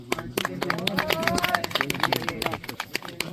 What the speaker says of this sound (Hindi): अच्छा पिक किया इन्होंने तो तालियां तालियां